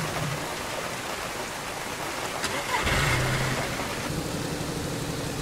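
A car in the DayZ video game idles, then its engine swells and pulls away after a tyre is refitted, a low hum rising to a louder drone over faint patter.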